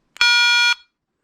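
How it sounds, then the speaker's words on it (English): A single sustained electronic beep, about half a second long, clear and steady with a bright buzzy tone, then silence, signaling a remote-controlled unit entering standby. "It's going to give you the deep beep to let you know it's in standby"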